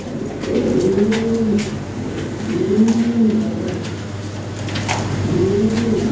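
Lahori pigeons coo in three rolling, throaty phrases spaced a couple of seconds apart, close by over a steady low background hum.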